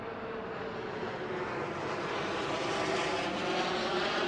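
A jet airplane flies overhead, giving a steady, loud broadband roar that swells slightly and holds throughout, with no talking.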